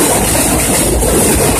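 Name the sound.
elevated trains passing overhead in Brighton Beach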